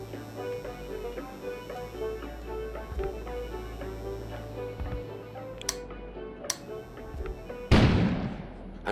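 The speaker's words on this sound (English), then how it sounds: "An explosion suddenly occurred outside." An explosion outside in the video game Kona, a sudden loud burst near the end over a steady game ambience with scattered ticks and clicks.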